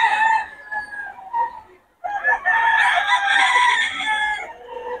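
Kanawayon gamefowl roosters crow loudly and near: a first crow fades out, then longer overlapping crowing follows.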